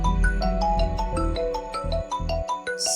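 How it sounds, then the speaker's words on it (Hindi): A mobile phone rings with an incoming call, a bright melodic ringtone of repeated tonal notes in a steady rhythm, loud and alone, ending in a short burst of noise. "सिला की कॉल आ रही है?"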